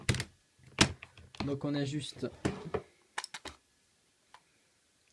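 Dan Wesson air revolver cylinder being reloaded with a loader, giving a few sharp close metallic clicks and taps amid French speech, then isolated clicks near the end.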